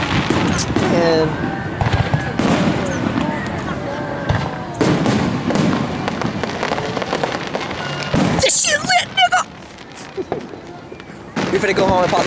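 Fourth of July fireworks and firecrackers pop and crackle in loud bursts across a noisy outdoor street scene, mixed with people talking and shouting throughout.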